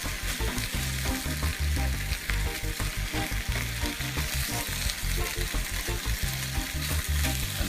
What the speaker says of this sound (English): Looks like we're about ready to flip these pieces of turkey bacon